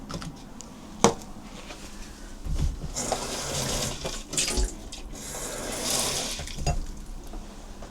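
Water trickles and splashes steadily as it is poured for bottom-watering a plant cutting during propagation care, close and fairly quiet, with a sharp knock partway through and no talk.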